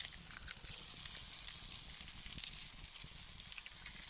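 Outdoor campfire burning under a black teapot, giving dense continuous crackling and hissing with scattered small pops, close to the microphone and heard alone.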